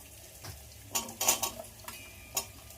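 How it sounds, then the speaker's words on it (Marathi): Potatoes sautéed with green chillies in a pan for khichdi, a few quick clattering spatula scrapes and taps against the pan over a faint low sizzle, brief and close. "बटाटा थोडासा असा परतून घ्यायचा"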